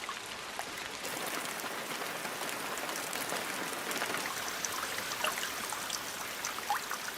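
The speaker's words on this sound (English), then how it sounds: "Precipitation falls incessantly throughout what is now the Amazonian rain season" Steady rain falls in the Amazon rainforest during the rainy season, a constant soft hiss of drops pattering on leaves with occasional brighter drips, even and moderately quiet throughout.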